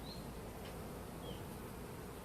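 A steady, dense hum of many honeybees buzzing continuously at an open hive, close by, with no pauses or voices.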